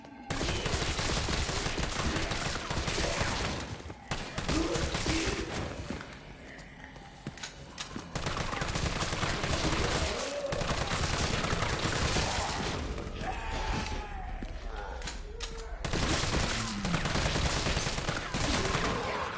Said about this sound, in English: That's why I don't like using machine guns. I miss too much.